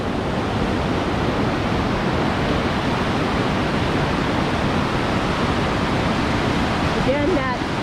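Rushing river water at Hermit Rapids, a loud, dense, unbroken roar of whitewater heard close up, with a faint voice at the very end.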